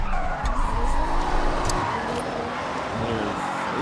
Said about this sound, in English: This car just drifts really well.